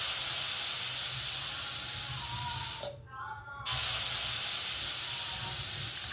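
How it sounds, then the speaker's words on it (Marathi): A pressure cooker whistle sends out a loud, steady, high steam hiss while cooking double beans. It cuts off abruptly for under a second, then the hiss resumes just as strongly. No one speaks. "ही पहिली शिट्टी झाली."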